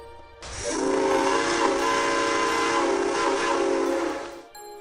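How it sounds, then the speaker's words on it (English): A train pulls into a small station, a sustained loud whistle-like horn tone with rumbling rail noise that starts abruptly, holds steady for several seconds, then cuts off. "As the train pulled into the tiny station"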